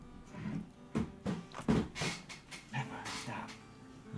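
A dog pants and gives short whimpers and yips in a string of quick, uneven bursts close by, with a faint voice underneath at times.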